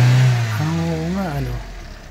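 Toyota Corolla small-body engine treated with an oil enhancer, revved up and back down once, a rising then falling mechanical drone heard close with people talking over it.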